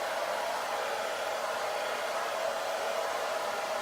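Steady, close hair dryer fitted with a diffuser blows nonstop over curly hair, a constant broadband whoosh holding an even level for the whole stretch with no talking.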